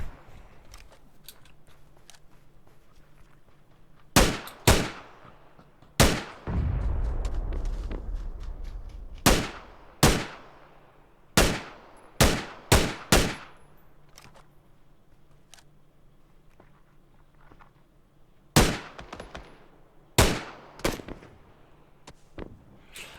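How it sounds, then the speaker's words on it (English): Long-range SLR rifle fire in PUBG during a competitive esports match, sharp single shots spaced irregularly with a few in quick clusters, plus a rumbling blast early on, heard without talk. "Ronan getting some long-range SLR shots over onto DQ Gravity"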